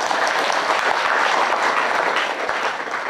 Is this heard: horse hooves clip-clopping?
no